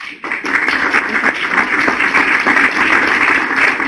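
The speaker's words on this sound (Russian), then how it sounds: "Опять аплодисменты инженеру Юницкому." An audience breaks into sustained applause for an engineer at an international teleconference event, loud dense clapping that starts abruptly and holds steady throughout without any speech.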